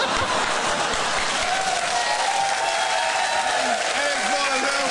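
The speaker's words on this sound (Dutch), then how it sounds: "geef Samora en Mitchell nog even applaus" A studio audience on a Dutch TV show breaks into loud, sustained applause, a dense wash of clapping that fills the whole stretch, with a voice talking over it.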